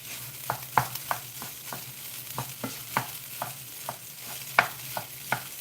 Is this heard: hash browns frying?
yes